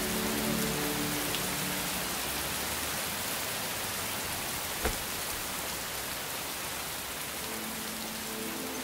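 Steady rain pours at night across a city, a dense even hiss of drops that fills the whole stretch without a break; faint low tones hover underneath at the start and end.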